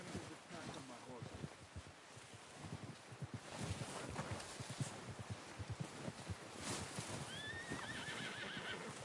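A horse whinnies near the end, over steady background noise with hoofbeats and people talking throughout.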